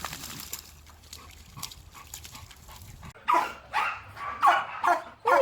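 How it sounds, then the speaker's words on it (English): A dog lets out a run of high, squeaky yelping barks, five or six close bursts after a few seconds of quiet rustling outdoors. "this dog is like a broken squeaky toy"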